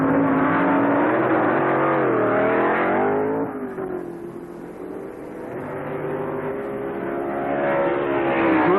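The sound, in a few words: Pro Stock drag race, Grumpy Jenkins' small-block Chevy Vega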